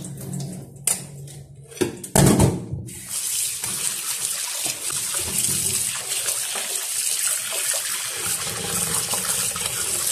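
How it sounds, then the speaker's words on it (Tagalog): Running water splashes into a container, with a few clunks and sloshes early on, then a steady gushing flow as basmati rice is rinsed under a tap. "So, hugasan na natin ang ating bigas"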